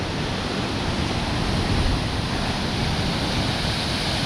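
Powerful sea waves crash at a beach in El Cotillo, a loud, continuous roar of surf with wind noise on the microphone and no voices.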